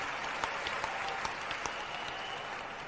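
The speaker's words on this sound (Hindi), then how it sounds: "वाह, ताली बजाओ इस बच्चे के लिए।" Audience at a Bhagavat katha religious gathering in Indore clapping for a boy, steady distant applause with a few sharper nearby claps standing out.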